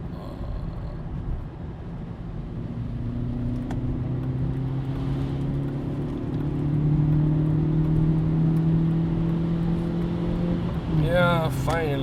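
Steady engine and road drone from a car driving on a German motorway while passing trucks, a continuous loud hum that rises slightly partway through, with voices speaking near the end.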